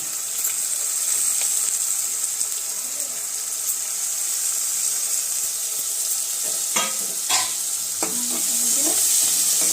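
Onion and tomato sautéing with salt in a pan, a steady loud sizzle and frying hiss throughout with intermittent stirring and utensil scrapes, clattering more toward the end.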